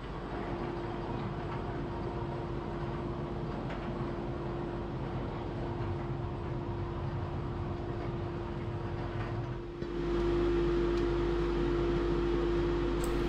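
A WoodMizer LT15 band sawmill cuts a heavy log into boards with a steady droning whine and a constant motor hum, and the tone shifts and grows louder near the end.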